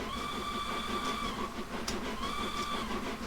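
Train whistle in the Train Simulator 2020 video game, two sustained tonal blasts over a constant loud rumble of the running locomotive, no talk.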